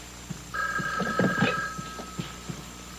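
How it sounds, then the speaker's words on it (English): A telephone rings in a bar with a continuous electronic trill under faint background noise and occasional knocks, fairly close but moderate in volume. "your phone's ringing"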